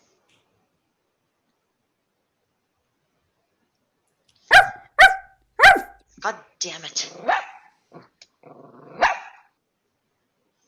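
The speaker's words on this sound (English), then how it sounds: "isn't that just the most annoying dog you've ever heard?" A dog barks three sharp times after a long silence in a stage play, followed by a few softer yips and growls, with a man muttering in between.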